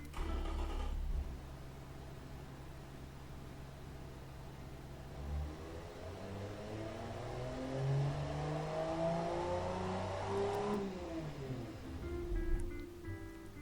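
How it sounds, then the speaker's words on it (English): A modernised 1950s truck engine in the racing game Automation, fitted with tubular headers, a large exhaust and a single baffled muffler, revs steadily, rising and falling in pitch through several climbs over a constant loud drone. "Tubular headers, big enough exhaust, baffled first muffler, no second muffler, so it's gonna be pretty loud."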